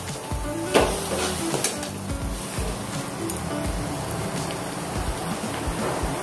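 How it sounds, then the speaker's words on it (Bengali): Gram flour being stirred into an onion filling frying in a pan, a loud dense sizzle with scraping stirs and an occasional sharp knock, close and continuous without talk. "এবার বেসন দিয়ে দিচ্ছি, দিয়ে ভালো করে আবার নাড়িয়ে দেবো।"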